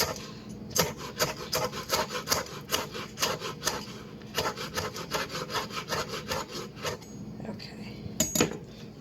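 A knife chops chives and scallions on a cutting board, with rapid, fairly even chops coming close and loud and a few brief pauses over nine seconds; no talking.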